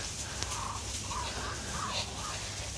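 Muscovy ducks in an enclosure making soft, breathy calls, a few brief muffled sounds over a constant low background hum.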